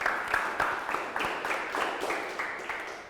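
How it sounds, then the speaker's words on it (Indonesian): A small group at a Ramadan fast-breaking gathering claps steadily in an even rhythm, many quick hand claps close by, with a voice faintly underneath. "tepuk tangan dulu dong"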